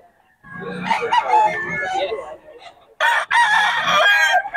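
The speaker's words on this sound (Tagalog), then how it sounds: "Solid ang manok ni Boss Batang" Loud rooster crowing close by at a market in Bocaue, Philippines, several long calls in a row with a short pause between, some chatter faintly underneath.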